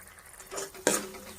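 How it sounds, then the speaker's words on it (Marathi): Homemade spice masala frying in oil in a pan for a mung bean vegetable curry, with a soft stir around the middle and a sharper scrape or clink near the end, short and close. "आपला मसाला पण छान तळलेला आहे"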